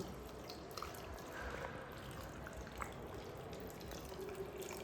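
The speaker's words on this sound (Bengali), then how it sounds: "এবার ঠান্ডা করে রাখা জলটাও দিয়ে দিচ্ছি" Chilled water pours steadily into a blender jar holding raw mango, a continuous close, even splashing rush with no talk.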